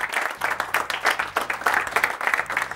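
Audience applause at a school debate on school uniforms, a steady dense burst of clapping lasting a few seconds with no talk over it.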